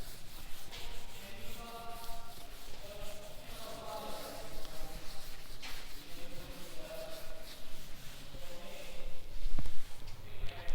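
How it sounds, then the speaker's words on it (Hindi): Chalk or marker writing being rubbed off a classroom board during a lesson on equations, a steady scraping and brushing that runs the full length at moderate level, with faint intermittent tones in the background. "इसलिए ऊपर ऊपर का रब कर रही हूँ"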